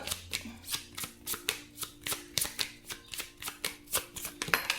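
Tarot cards are shuffled in a quick, steady rhythm of soft riffling pulses, close and fairly quiet, and they carry on without pause for the whole few seconds.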